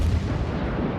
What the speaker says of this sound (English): You can see where the gunfire is coming from the Emerald